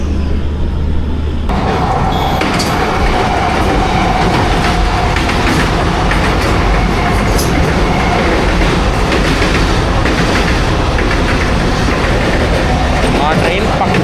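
An Indian long-distance passenger train pulling away after a halt on a bridge near Nizamuddin, heard from inside the carriage as a loud steady rumble of wheels and wagon noise that fills the whole span, with voices under it.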